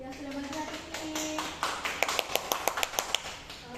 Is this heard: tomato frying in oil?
no